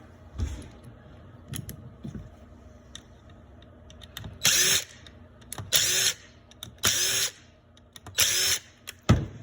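A power drill fitted with a Phillips head bit whirs in several short, loud bursts of about a second each, separated by quiet gaps with light clicks and handling noises, while a bicycle engine is taken apart.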